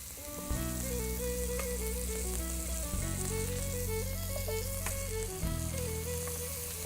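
Tomato paste and Dijon mustard sauce sizzles steadily in a hot pan while being stirred, a constant frying hiss with low background music, no talking.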